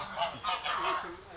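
Geese and ducks of various breeds at a pen with water tanks honk repeatedly in a quick series of close, nasal calls.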